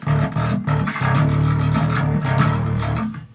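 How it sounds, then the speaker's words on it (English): A bass guitar plays a quick run of gritty notes through a distortion pedal, loud, close and continuous, with no voices. "and then I hit the distortion"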